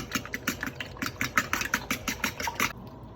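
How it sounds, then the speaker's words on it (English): A fork whisks milk and eggs together in a quick, steady rhythm of close tapping strokes, about five per second, for roughly three seconds before stopping. "take your fork, and what you're gonna do is take that, whisk together the milk and the eggs"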